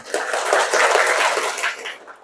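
Children clap their hands together in a classroom, a dense, steady burst of close, quick claps lasting about two seconds with no talking over it.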